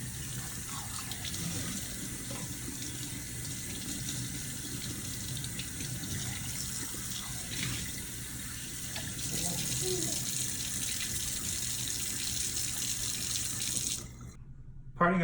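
Tap water runs steadily into a sink while a whole chicken is rinsed underneath, a continuous close splashing rush with slight shifts in tone as the bird moves, cutting off abruptly near the end.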